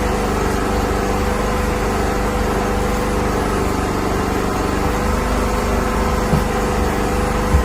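An electric sewing machine stitches a cargo pocket, its motor giving a steady, continuous mechanical hum with a low buzzing drone that runs unbroken from start to finish, with no talking.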